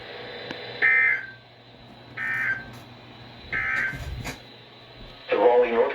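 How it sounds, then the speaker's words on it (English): NOAA Weather Radio public warning alarm tone test on WXL58, sounding as three short, steady, high-pitched tone bursts at even intervals over a low background hum, followed by the start of a voice. "the National Weather Service has just activated the public warning alarm tone"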